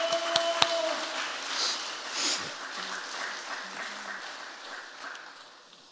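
Applause from a church congregation during a Sunday sermon service, a dense wash of many hands clapping that starts fairly loud and gradually fades over several seconds, with a few faint voices mixed in.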